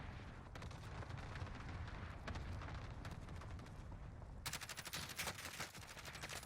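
Gunfire in the Warzone video game, with rapid bursts of automatic shots and sharp cracks rattling steadily through the mix, growing denser and louder toward the end, with no voices over it.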